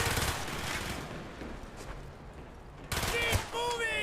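Rapid automatic gunfire bursts in the Call of Duty: Black Ops video game, loud and dense at the start, thinning to a steady rumble, then a sharp renewed volley near the end.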